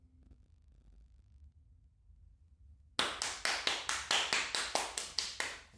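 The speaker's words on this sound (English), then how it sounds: "producers once again tell me to clap because we have an audio issue" Hands clap about a dozen times in an even, quick rhythm during a live stream, loud and close, after a few seconds of near silence.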